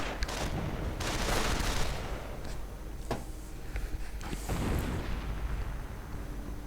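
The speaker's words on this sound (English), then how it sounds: "More sniper fire though." Gunfire in a strategy video game, sniper shots cracking in sharp isolated reports over a steady rumble of battle noise and distant artillery, at a moderate volume with no talking.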